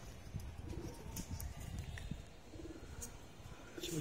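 Pigeons coo faintly outdoors in bright daylight, soft repeated low calls amid a busy background of wind, rustle and scattered clicks.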